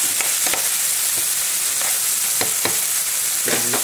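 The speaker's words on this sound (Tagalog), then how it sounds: "bisa-bisa muna tayo hanggang magiging golden brown yung ating garlic" Garlic frying in a pan until golden brown gives a continuous bright sizzle, with a few soft clicks and taps of stirring over the steady crackle, close and alone.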